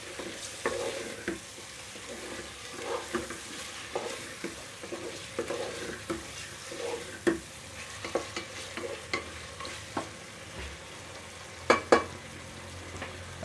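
Chicken pieces frying and being stirred in a pan for chicken do pyaza, a restaurant-style gravy dish, giving a steady close sizzle broken by scraping stir strokes and a few sharp clanks near the end.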